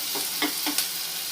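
Spices for clam sukka fry in a pan, a soft continuous sizzle with a few brief louder crackles and stirring scrapes, fairly quiet and without speech.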